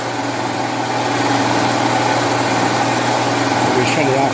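Austin Healey gearbox running in second gear on a test setup, giving a steady, quiet mechanical hum and whir that holds at a constant level throughout, with no knocks or irregular noises.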